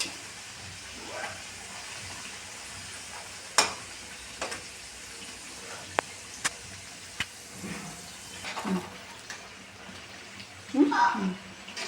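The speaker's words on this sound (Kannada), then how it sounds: "ಇದನ್ನು ಚೆನ್ನಾಗಿ ಕ್ರಿಸ್ಪಿ ಆಗೋವರೆಗೂ ಎಣ್ಣೆಯಲ್ಲಿ ಫ್ರೈ ಮಾಡಬೇಕು." Badam puri deep-frying in hot oil until crispy, a steady soft sizzle running throughout with occasional clinks and a louder bubbling burst near the end.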